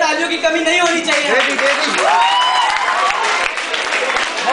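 A school audience at DAV Public School applauds a poet reciting about Kargil. Loud, close clapping runs under voices and excited cheering throughout.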